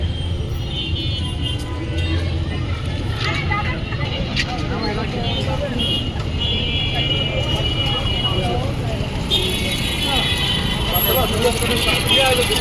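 Heavy traffic is jammed on a crowded Dhaka street near the university during a winter festival: cars, buses and trucks give a constant roadway rumble with a few sharper engine or horn accents, and voices talk over it.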